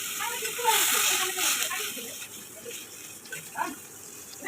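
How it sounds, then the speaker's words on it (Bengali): Water pours into a pan of frying greens and potatoes, a brief close splash and gush that fades into a softer trickle, with a voice faintly present. "এবার দিয়ে দিলাম জল।"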